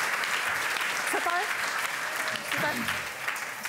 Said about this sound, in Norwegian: Vi får klappe av det her.